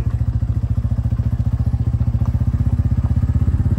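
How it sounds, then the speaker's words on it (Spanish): A motorcycle rides steadily along a cattle pasture track while leading a bronco on a rope, its engine putting out a close, continuous low-pitched thumping throb with a fast, even pulse and no voices over it. "Aquí vamos en la moto y llevamos jaladito al bronco"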